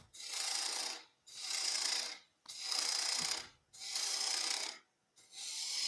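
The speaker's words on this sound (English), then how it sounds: "And you can remove a lot of material quickly with a spindle gouge" A spindle gouge cuts a wooden spinning top on a lathe in five loud, rasping bursts of about a second each, separated by short pauses, close up and with no talk.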